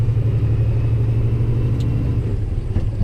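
A truck with a 13-speed gearbox drops into fourth gear, its diesel engine a loud, steady low rumble close by, dipping slightly near the end as the shift comes.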